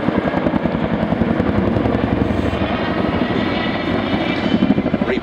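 Loud, rhythmic rotor thump and turbine roar from an RAF Chinook helicopter manoeuvring in a descent, a fast steady beat held close and continuous throughout.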